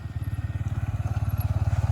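A motorcycle engine runs with a steady, pulsing throb while the bike is ridden on a short spin near an open field by Nakkati Hill, loud and close throughout with no talk.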